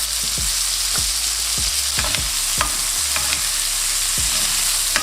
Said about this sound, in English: And baste it with butter for the remaining time.